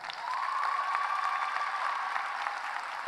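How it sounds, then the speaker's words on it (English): A graduation ceremony crowd claps for the graduates' families, a steady wash of applause rising quickly and holding at moderate distance before easing slightly. "How about a round of applause for them?"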